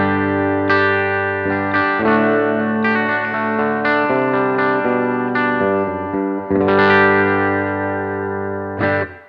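An electric guitar plays sustained chords and notes through a Missing Link Audio Anthem clean tone, bright and ringing with chorus-like shimmer, loud and close with no voices.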